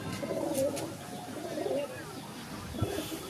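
A female pigeon coos in low, soft repeated phrases, close by, with faint background noise and some speech-like sounds mixed in.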